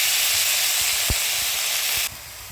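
Bottle gourd pieces go into hot oil with turmeric in a village-style kitchen, setting off a loud, steady sizzling hiss that cuts down abruptly near the end.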